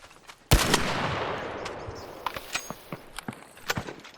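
Gunfire in the video game ARC Raiders: one loud shot cracks out, its echo fading over a couple of seconds, followed by a scatter of sharper clicks and pops.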